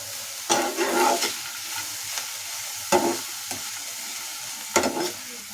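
Garlic leaves with a little amchur powder fry in a pan for chutney, making a steady soft sizzle. A spatula stirs and scrapes in three or four distinct strokes, close by, with no voices.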